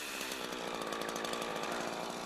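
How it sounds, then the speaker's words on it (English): A Husqvarna chainsaw runs at high revs while making a felling cut into a standing tree, a loud, continuous buzzing roar with a slight pulsing rhythm, close by and without voices. "Saw until you have enough room to push in a breaking bar."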